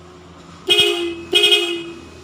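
Two loud honks of a car horn with a dual-tone blare, each lasting about half a second, close by over a low engine hum.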